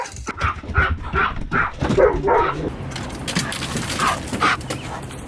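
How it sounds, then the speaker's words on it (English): Puppies whimpering and yipping eagerly before a walk, a series of high-pitched whines and short cries, some overlapping, close by and fairly loud. "we got some puppies back there that are ready to get out and go walk"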